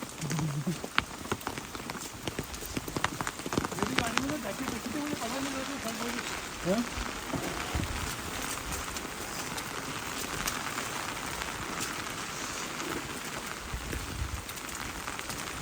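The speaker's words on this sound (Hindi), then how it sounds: "बारिश बहुत ज़्यादा है, बहुत ज़्यादा।" Heavy rain pouring steadily at Mukteshwar temple in Uttarakhand, a dense continuous hiss throughout, with voices speaking over it early on.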